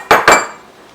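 Two quick, loud clunks as olive oil, salt, pepper and other chimichurri ingredients are dumped into a Ninja blender jar, followed by fading quiet.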